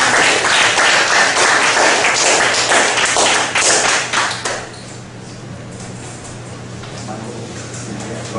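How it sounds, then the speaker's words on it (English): A crowd applauds a speaker loudly for several seconds at a talk, the clapping thinning and fading out, leaving quiet room noise with a low hum. "Can you give our speaker a round of applause"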